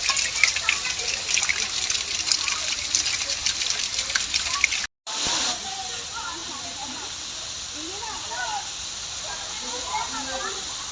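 Water pours steadily at the Vennela waterfall on Radham Gutta, a close, continuous hissing rush that cuts out briefly and returns, with birdsong above it.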